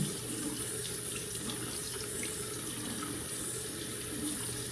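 A bathroom tap runs steadily into a sink while skincare product is washed off a face, a continuous close hiss of flowing water with no talking.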